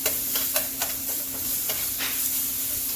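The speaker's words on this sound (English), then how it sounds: "I'm using a whisk so that it'll be an easy" Eggs being whisked in a bowl to scramble them, a quick run of light metallic clicks and taps against a steady background hiss, with no talking.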